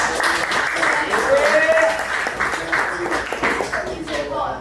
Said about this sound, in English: Let's give him one more clap.